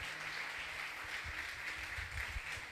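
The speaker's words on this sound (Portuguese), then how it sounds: "Dale una ofrenda de aplauso a Cristo." A church congregation applauds together, a dense, even wash of clapping that stays steady and moderately distant throughout, with no single hands standing out.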